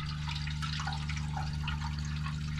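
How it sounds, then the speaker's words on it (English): Water rushes and trickles steadily into a hot water tank during a home hot water system upgrade, a continuous close hiss of filling over a low steady hum. "you'll be able to hear the water is filling up in the tank"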